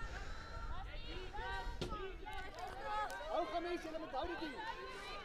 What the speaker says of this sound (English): you frantically hear parents calling, shouting, calling for pressure on the players and encouraging their daughters